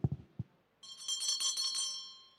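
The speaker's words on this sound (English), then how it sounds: "the bell is over here," A contest timekeeping bell at an oratory competition rings steadily for over a second and a half, bright and metallic with sustained overtones, following a few soft knocks and handling sounds.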